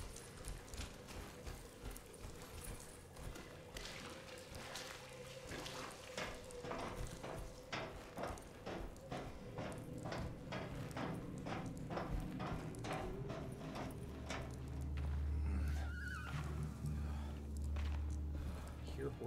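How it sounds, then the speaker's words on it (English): Horse hooves clip-clopping in a video game, a steady rhythmic clatter of hoofbeats that continues throughout at moderate distance, with a person talking over it. "horses"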